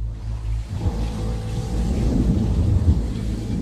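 Deep, rolling thunder rumbles continuously with a low, heavy roar, like a storm overhead, and no voices.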